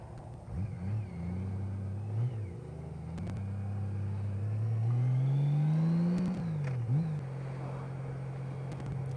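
A Honda Goldwing motorcycle rides through Medicine Park near Lawton, Oklahoma, its engine humming close by and climbing in pitch as it accelerates, then dipping and settling into a steady drone over wind rush.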